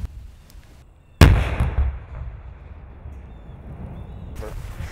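A C4 explosive detonates with one sharp, loud blast after a second of quiet, then a rumbling decay and crowd noise, and faint voices can be heard afterward.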